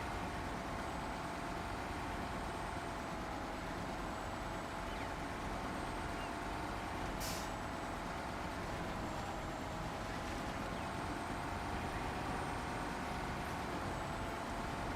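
A Mercer truck engine drones steadily in high gear in SnowRunner, a continuous loud rumble with a brief hissing burst midway that fits an air brake release.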